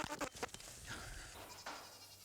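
Pygmy goats in an Oklahoma barnyard give a few faint, wavering bleats between soft rustling and shuffling.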